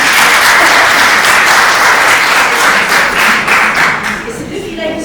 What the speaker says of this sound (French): Et les filles on applaudit